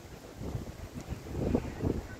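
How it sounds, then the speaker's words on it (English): Wind blowing across an outdoor Australian football ground, rumbling and buffeting the microphone in uneven low gusts that swell toward the end, with no voices. "Wind's blowing straight across the face of goals down there."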